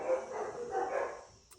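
Excited dogs bark and yip in a muffled, somewhat distant burst of overlapping sounds, fairly faint and brief.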